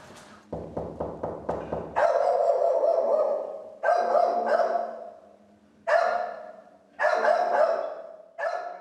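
A dog inside a parked car barks repeatedly nearby, sharp single and double barks in irregular bursts separated by short silences, with a rattling knock beneath the first few.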